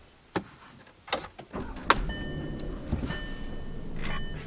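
A Volkswagen Atlas SE V6 parked with its cabin quiet: a few clicks and a short starter whir, then the engine catches and settles into a low, steady idle, heard from inside the car.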